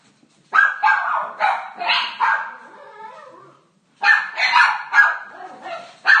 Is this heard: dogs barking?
yes